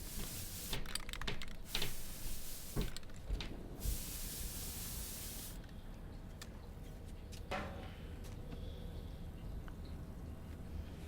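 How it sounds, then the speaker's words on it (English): Short hissing spray-paint sprays in the video game Death Stranding 2 burst out several times, with one long continuous spray in the middle, over a faint background hum and light clicking. "I can dye my hair just with some spray paint."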